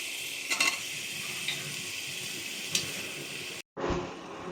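Jackfruit with small potatoes frying in spices in a pan for a masala curry, a steady close sizzle with brief stirring scrapes and a short silent break near the end.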